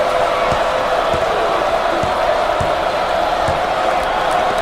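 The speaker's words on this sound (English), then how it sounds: "The crowd starting to chant" A college basketball championship crowd fills a large arena with a steady, chant-like roar, with sneaker squeaks and thuds from the court punctuating the continuous crowd noise.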